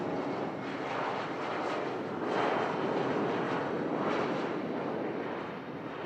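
A Finnair airliner departs Manchester Airport for Helsinki with a broad, continuous jet roar that swells slightly midway, then eases toward the end.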